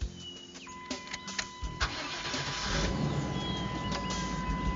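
A church van engine cranks with a few clicks and whirs, then catches and settles into a low, steady idle, heard close with no talking.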